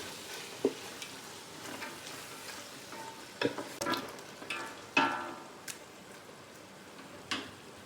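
Carrots and beans frying in a pan for a vegetable and chicken biryani, with a low steady sizzle broken by scattered sharp clicks and scrapes of a spoon stirring them.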